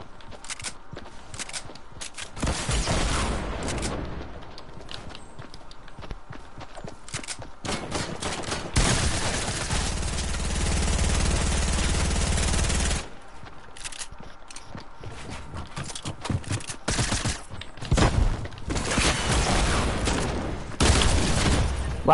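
Fortnite gunfire, long stretches of dense sustained shooting and crackling bursts at fairly loud level, alternating with choppier shots and pauses over about twenty seconds.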